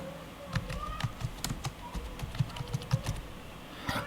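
Fingers type a name on a computer keyboard while filling in an online train ticket booking form: a quick, irregular run of soft key clicks, close and fairly quiet, with no talking.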